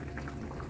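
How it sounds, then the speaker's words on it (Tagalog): Water with coconut milk bubbles at a low boil in a pot, a soft, faint and continuous burble of small bursting bubbles close by. "Tingnan niyo, kulo na."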